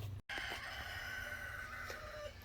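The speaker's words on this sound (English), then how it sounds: "Can't start a video without that rooster crowing." A rooster crows outdoors during work on an early-1990s Ford steering column, one long drawn-out call at moderate distance over light background noise.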